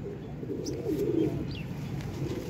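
A pigeon coos softly a few times amid a quiet setup of birds kept for sale, with faint chirps in the background.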